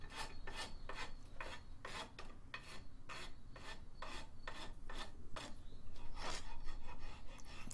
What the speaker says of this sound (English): I've got a rasp, surprisingly, one of my old ones. I'm just going to rough it out a bit more.